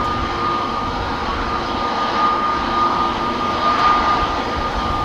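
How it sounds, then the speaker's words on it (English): Jet engines of a four-year-old KM Malta Airbus A320neo lined up on the runway at Amsterdam Schiphol on a windy day, a steady broadband roar with a thin whine, holding fairly even and close throughout. "Got KM Malta A320neo, which is going to go to Malta."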